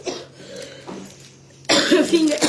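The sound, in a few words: cough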